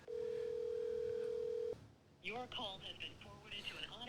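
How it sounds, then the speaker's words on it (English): A telephone call rings out as a single long steady tone for over a second, followed by a pause and then a voice talking. "let's call Gary now"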